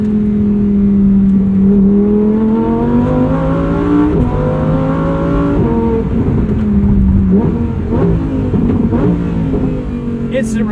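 A Lamborghini Huracan with a seven-speed dual-clutch gearbox revs and accelerates up close. Its engine note climbs steadily, dips briefly at each quick gear change, and pulls hard again, staying loud for about ten seconds.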